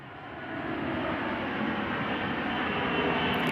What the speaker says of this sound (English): That's helicopter.